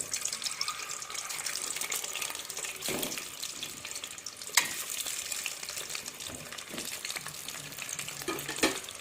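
Boiled eggs with scored cuts frying in hot oil, added one by one, giving a constant loud sizzle and crackle, with sharp pops and a few clinks from a utensil.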